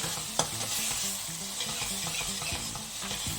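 Spoon stirring a palak paneer mixture in a hot pan, with continuous sizzling and irregular scraping strokes close up, one sharp knock near the start and no voices.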